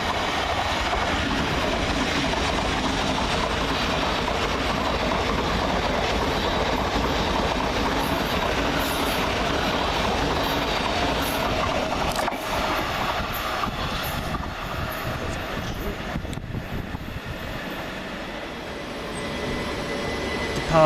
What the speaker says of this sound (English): Next through is 700-101 with 9 Sierra 32 from Brighton to Cambridge via London St Pancras International.